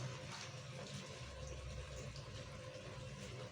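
Steady rushing of water being poured, continuous and even throughout, close by and moderately quiet.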